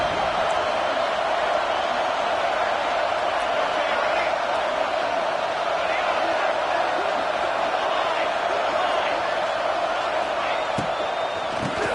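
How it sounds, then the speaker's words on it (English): Stadium crowd in the NCAA 26 college football video game against Oklahoma roars as a dense, steady wash of noise throughout, with a commentator's voice running over it. "Listen to the crowd energy here in the early going."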